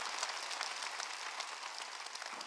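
A church congregation at a Sunday worship service applauds, a soft, steady patter of many hands heard from a distance, continuous and even for the whole moment.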